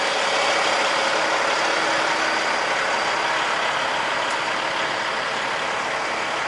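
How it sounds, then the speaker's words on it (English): A military army vehicle idling, a steady broadband engine rumble and hiss that stays even and loud throughout, with no voices. "Saw this Army vehicle pulling in."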